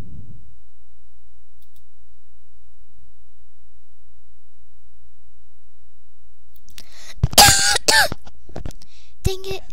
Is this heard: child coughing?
yes